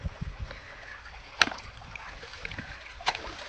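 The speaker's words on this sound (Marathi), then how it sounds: "आता सगळं पाणी भडाभडात जाईल" Irrigation water runs into a sorghum field with a steady, rushing wash of flow, broken by a couple of sharp splashes near the middle and end.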